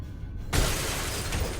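Glass shatters suddenly in a gym in Duke Nukem Forever, a loud burst of breaking and tinkling shards that rings on for over a second.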